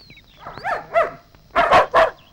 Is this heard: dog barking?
yes